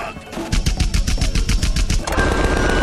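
A fast, evenly spaced burst of automatic gunfire in the video game Tales from the Borderlands, loud and close, about a dozen rapid shots that cut off abruptly into a lingering hum.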